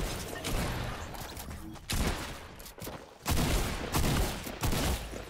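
Gunfire from the Fortnite battle royale game, Chapter 2 Season 1, in bursts of rapid shots separated by short gaps, loud and close.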